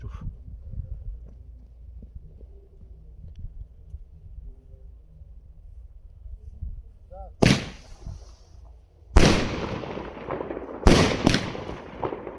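A Gaoo Formoza 19-shot, 30 mm firework battery fires in sharp, booming bursts, several loud cracking shots in quick succession after a stretch of quiet murmuring and distant crowd noise.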